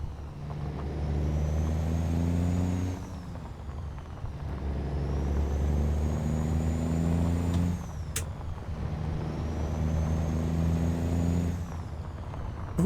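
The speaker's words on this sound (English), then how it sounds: "I think the shifting sound, it's there, but it's just not as pronounced in this truck as it was in the 379" Truck engine in American Truck Simulator droning steadily with a deep harmonic hum, rising in pitch then dropping twice as gears shift, plus a brief hiss near the end; no talking.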